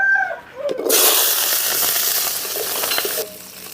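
Small onions dropped into hot oil in a pan, a sudden loud sizzle that holds steady for a couple of seconds before cutting off, with faint clatter just before.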